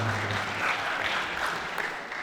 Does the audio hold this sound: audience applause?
yes